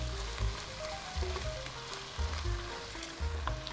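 Squid and vegetable capcay with broccoli and tomato stir-frying in a pan, a steady close sizzle with recurring louder bursts as the food is stirred and tossed, no voices.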